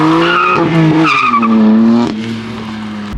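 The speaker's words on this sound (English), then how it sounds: "But I drifted the car." A BMW F80 M3 drifts with loud, sustained tire squeal, the pitch wavering and sliding as the car slides, with engine noise underneath and no talk.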